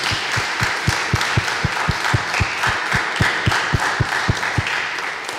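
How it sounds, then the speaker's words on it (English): An audience at a young physicists' tournament final applauds the jurors, clapping in a steady rhythmic beat with regular, evenly spaced thumps over a continuous bed of scattered claps throughout. "please, round of applause for our jurors"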